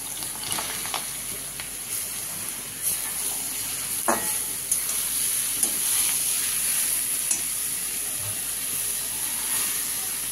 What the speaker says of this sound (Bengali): এবার আমি দিয়ে দিচ্ছি পেঁপেটাকে, গরম হয়ে গেছে ঘিটা।